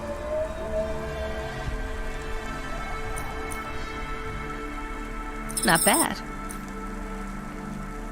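Steady rain falls in the Cloudpunk video game, a constant soft hiss beneath a light electronic hum, while a voice speaks briefly near the end.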